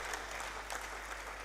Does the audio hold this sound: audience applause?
yes